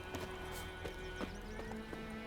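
Horse hooves clip-clop in The Witcher 3, a steady walking rhythm of soft thuds over a constant low game ambience, with no talk.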